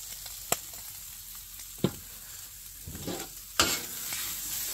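Potatoes fry on a very hot griddle, giving a steady low sizzle that is broken by a few sharp scraping knocks as they are stirred and turned.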